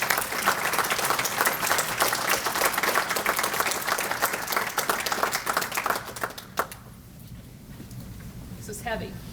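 An audience applauds at an annual meeting and luncheon for fire department officials being honored, with dense, loud clapping that fills most of the stretch before thinning to a few scattered claps near the end.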